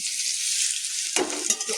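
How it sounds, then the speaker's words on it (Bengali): Thinly sliced potatoes hit hot oil in a wok, a sharp, loud burst of sizzling that starts abruptly and crackles on, following a softer steady hiss. "সরু সরু করে আলুগুলো একটু তেলে ভালো করে ভেজে নিচ্ছি"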